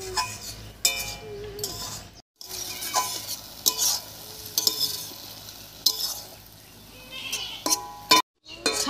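Dried fish being stirred and fried with spinach and eggplant in a pan, with scraping stirs and soft sizzling in bursts, broken by brief pauses.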